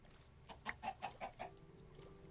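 A run of about five rhythmic chicken clucks from the game Minecraft SevTech Ages comes in close and clear, then fades into quieter background ambience.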